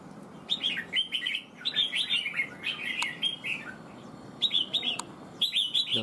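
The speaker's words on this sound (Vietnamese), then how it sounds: "Con chim này có bộ gáy cũng đẹp nhá" A red-whiskered bulbul sings in bursts of bright, fluttering whistled phrases, fairly close and clear over a soft background hiss, with short pauses between song runs.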